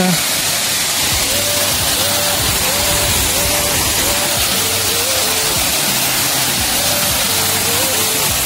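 Khuludi waterfall near the Baba Giriswar temple, a steady broadband rush of falling water filling the whole stretch, with faint voices and a repeating tonal chirp beneath.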